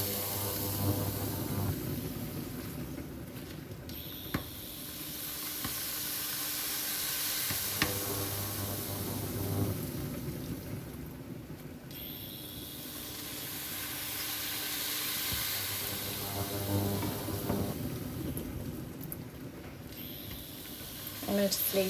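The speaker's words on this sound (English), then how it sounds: "Okay, so the pork's cooking away nicely." Pork browning in a pan for a skinny creamy pork and mushroom stroganoff, with a steady broadband sizzle and hiss running through, rising and easing in waves alongside occasional stirring clatter.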